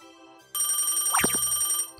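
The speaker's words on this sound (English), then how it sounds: "A phone call?" A telephone rings with an incoming call, a single bright, steady electronic ring lasting about a second and a half, close and clear with no voices.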